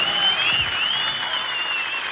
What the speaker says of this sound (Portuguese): Uma salva de palmas de vocês